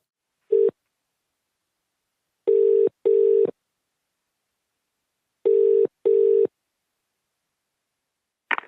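Ringback tone of an outgoing call on a landline telephone: two double-burst rings, each a pair of short tones, repeating at a steady interval, clear and alone with no talk.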